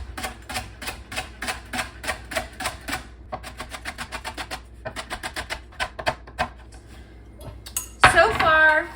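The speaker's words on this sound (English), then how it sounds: "I'm just gonna start by chopping one of my large leeks to see how much that provides for me." A knife chopping leeks into rounds on a cutting board, a rapid series of crisp, close knocks in quick bursts with short pauses, ending in a louder rustle and clatter, no talking.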